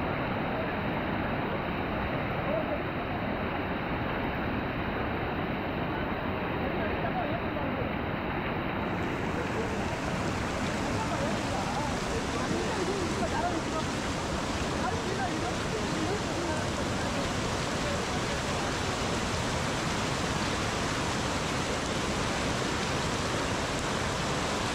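The Netravati River rushes past at a trek crossing in Chikmagalur, swollen from rain, as a constant, loud, broadband roar of flowing water that holds steady throughout.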